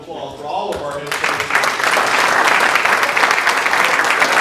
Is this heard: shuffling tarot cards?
no